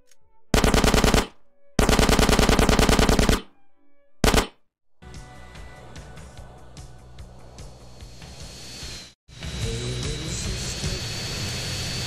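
Automatic gunfire in GTA San Andreas comes as two long, loud, rapid bursts, then a short one. After that a jet engine roars on steadily, with no talk.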